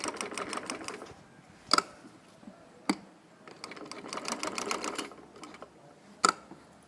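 A sewing machine stitches along the neckline of a yoke in bursts of rapid close needle chatter, separated by pauses and a few sharp clunks as the fabric is adjusted.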